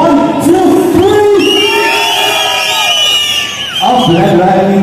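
Audience at a Phoenix Mall fun event cheering, whooping and whistling loudly as a crowd, a sustained dense roar for several seconds with a brief dip before rising again.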